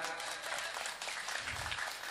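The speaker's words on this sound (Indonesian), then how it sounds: "Tepuk tangan buat Paku karo Padewan." An Indonesian village audience at an Independence Day celebration claps steadily throughout, a continuous wash of many hands applauding, fairly dense and even, with a slight low thump partway through.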